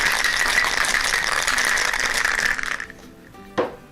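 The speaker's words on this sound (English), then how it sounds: "We give that a shake." A cocktail shaker with ice and a mixture of simple syrup and cream, shaken hard in a rapid, loud, continuous rattle for almost three seconds, then stopping, followed by a single sharp clink.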